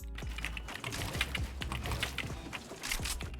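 Rapid clatter of computer keyboard keys as a thumb slides back and forth across them to switch Fortnite keybinds, a dense, continuous run of close, crisp clicks with no talk.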